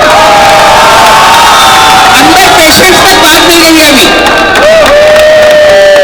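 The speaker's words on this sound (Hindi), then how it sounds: "एक बार खड़े होकर एक दूसरे के लिए तालियां" A standing crowd at an International Women's Day event at Narayana Hospital in Delhi claps and cheers loudly, with shouts rising around the hall while an amplified speaker talks over the noise.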